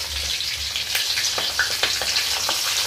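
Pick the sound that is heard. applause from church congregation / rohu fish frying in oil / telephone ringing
rohu fish frying in oil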